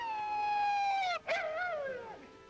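A dog lets out a long, loud, sustained howl that holds steady, breaks briefly, then wavers and slowly fades, heard alone without talk in a 1935 film.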